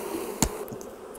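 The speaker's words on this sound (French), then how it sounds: "Les abeilles sont mieux dehors." Honeybees buzz faintly around a beekeeper's hives outdoors in a steady low drone, with a single brief knock partway through.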